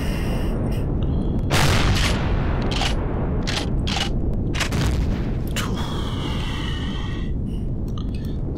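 Weapon fire in the sci-fi survival game Empyrion Galactic Survival, a string of loud booming shots and bursts over a constant dense background rumble, with several sharp reports close together and a brief whining tone near the end.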